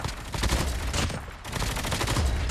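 Rapid automatic gunfire from Call of Duty Mobile battle royale, a dense continuous burst of shots filling the whole stretch at close, loud level with no pauses.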